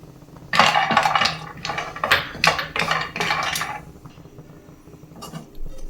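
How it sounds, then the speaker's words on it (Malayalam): Cashews are stirred as they roast in a few drops of ghee in a pan, producing a run of close metallic clinks and scrapes in quick bursts, then a quieter stretch. "അതിലേക്ക് നമുക്ക് കശുവണ്ടി പരിപ്പിട്ട് വറുത്ത് കോരിയെടുക്കാം."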